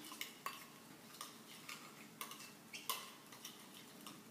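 A spoon stirs a tuna burger mixture seasoned with paprika in a bowl, tapping and clinking against the side in an irregular rhythm of soft knocks over a quiet kitchen background.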